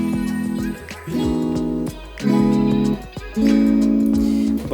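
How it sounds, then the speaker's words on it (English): An electric guitar is played clean with no effects pedal, sounding four sustained strummed chords in a steady rhythm, each ringing out before the next, loud and close with no talking. "So normally my guitar would sound something like this."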